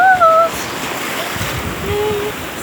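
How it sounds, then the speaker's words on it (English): Strong ocean waves wash onto a beach at Stalis, Greece, a loud continuous rushing surf with wind buffeting the microphone and faint voices in the background. "So the waves are just too strong."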